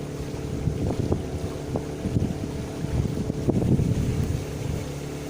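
Low rumble of a boat moving across water in Vylkove, Ukraine, with wind buffeting the microphone, steady and fairly close, no voices.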